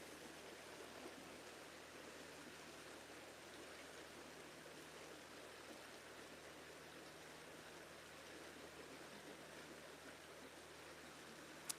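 A flowing river runs in a soft, steady broadband rush, faint and distant-sounding, unchanging throughout with no voices.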